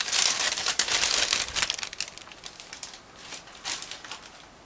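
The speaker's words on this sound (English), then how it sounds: "So we open this plastic bag and check what is hidden there." A plastic bag holding parts from a 1/35 scale plastic model kit of a Wehrmacht 3-ton truck is opened close up, giving loud crinkling and rustling that fades to a few softer crackles.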